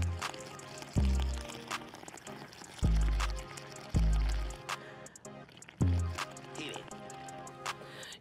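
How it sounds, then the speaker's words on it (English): Breath blown through a straw into water-test liquid inside a plastic baggie, making several low, burbling bubble bursts of a second or so each, close and fairly loud, separated by quieter gaps. "you're going to take your straw, you're going to open up the baggie, and you're going to blow into the liquid"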